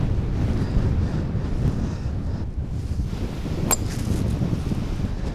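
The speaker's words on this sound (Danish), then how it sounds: "den er og lidt vindig" Wind blows across an open golf course during a tournament, a steady rumbling buffet on the microphone with gusts rising and falling and one brief sharp tick partway through, with no talk.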